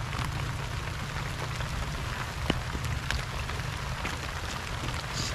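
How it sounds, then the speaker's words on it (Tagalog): Steady rain falls beside a large river in the countryside, a dense constant hiss with a few sharper drops, heard alone and without voices. "naabot kami ng ulan dito"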